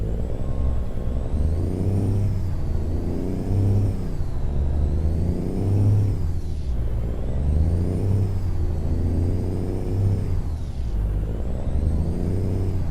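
Truck engine in a video game revving hard in repeated rising and falling waves while the wheels slip for traction, a loud continuous whine cycling up and down.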